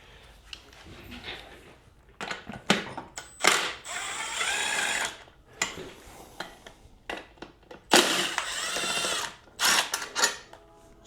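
A 10 mm ratchet wrench loosens bolts on Goldwing motorcycle carburetors, heard close up as a series of sharp, rapid clicking bursts separated by short pauses.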